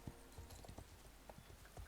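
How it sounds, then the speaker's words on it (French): Horse hooves clip-clop at a steady walking rhythm at the Jorvik stable in a horse riding video game, faint and set against a constant background hiss. "il y a des bruits de pas"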